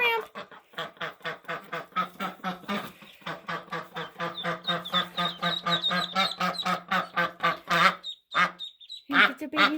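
Naturally hatched ducklings and their mother duck quack in a rapid, steady series of close, loud calls, with thin high peeps among them and a couple of brief pauses near the end.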